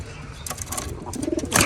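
A pigeon with feathered feet, just caught by hand, gives low soft coos amid close rustling and handling noise, with a faint background hum.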